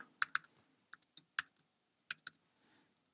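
A computer keyboard is typed on in short irregular clusters of sharp, close key clicks separated by brief pauses, quiet overall with no voices.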